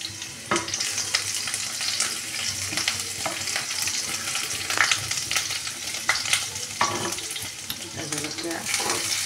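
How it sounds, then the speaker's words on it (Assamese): Garlic and cumin seeds frying in hot oil in a home kitchen pan, a steady sizzling crackle with occasional stirring clicks and pops, close and fairly loud with no talking. "তেলত অকণমান নহৰু দি দিছোঁ আগত।"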